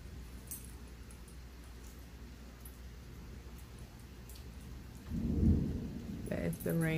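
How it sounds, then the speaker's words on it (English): Rain falls steadily outdoors beneath a low rumble of thunder that swells near the end, heard from indoors with a voice briefly speaking at the close. "That is the rain."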